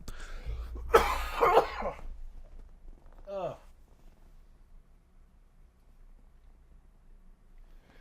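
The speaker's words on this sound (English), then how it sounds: "That was what we in the biz call a productive cough." A wet, phlegmy cough with throat clearing up close, followed by a gurgling vocal sound, then near silence.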